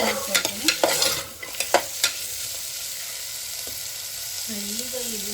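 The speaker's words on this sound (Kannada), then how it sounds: "ಕ್ಯಾರೆಟು, ಬೀನ್ಸು ಹಾಕ್ಕೊಂಡು ಮಿಕ್ಸ್ ಮಾಡ್ಕೊಳ್ತೀನಿ" Carrots and beans stirred into cooking onions in a pan, with a series of sharp spoon scrapes and clacks over a soft sizzle, then quieter frying with a brief hum near the end.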